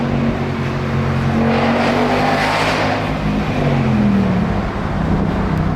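A 2021 Mustang GT V8 engine rumbles steadily and swells as it revs, a loud continuous roar with rising and falling pitch.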